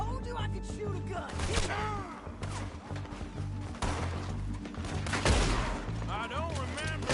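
Gunshots in Red Dead Redemption 2, a western-setting game: repeated loud cracks scattered through a busy fight, with voices talking over the action.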